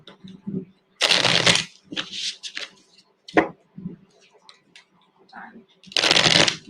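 Tarot cards are shuffled close by in a live psychic reading stream, heard as several loud riffling bursts broken by softer card handling and brief speech.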